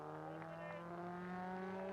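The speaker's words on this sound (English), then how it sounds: "The pit stop is finished briskly, and the car goes on its way into the gathering darkness." A steady, droning Rover Metro race car engine hums continuously at a distance, low and even, with a faint background murmur, as the car leaves a pit stop during a record-breaking endurance run.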